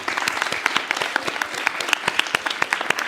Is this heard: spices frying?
no